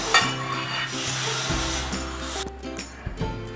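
Mango sauce being mixed with calamansi juice for stir-fried squid, a steady close rubbing, scraping stir that runs continuously, with a few knocks of the utensil toward the end.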